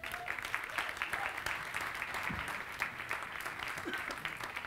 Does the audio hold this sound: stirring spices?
no